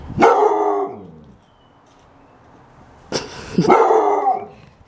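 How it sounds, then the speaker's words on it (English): A dog barks and howls twice, two drawn-out, loud bursts close by separated by a quiet gap. "there's a little dog right there"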